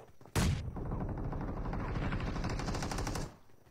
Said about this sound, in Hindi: ये देखो इधर से अलग फायर आया